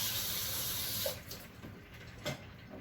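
Kitchen tap water runs steadily while a hand is rinsed, a faint close hiss of flowing water with soft splashes and a few small clatters.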